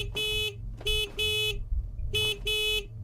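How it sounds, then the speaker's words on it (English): Car horn honking in the Secret Neighbor video game, sounding in four loud, sustained blasts of about a third to half a second each, separated by short gaps. "If you don't stop honking my freaking car horn."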